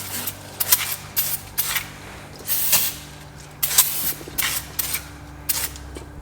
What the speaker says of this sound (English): give everything a nice liberal cleaning with some brake clean